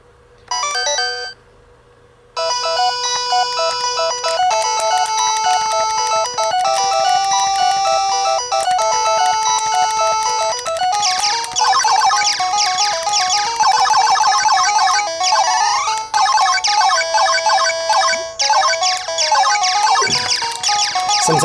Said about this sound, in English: Gradius actually sounds pretty good, and it plays pretty well